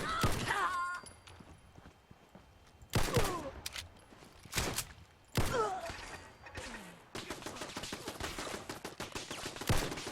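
Automatic turret in Fallout 4 firing explosive rounds: loud bursts of gunfire with sharp blasts repeating at intervals, interleaved with thuds and quieter stretches, with no talking.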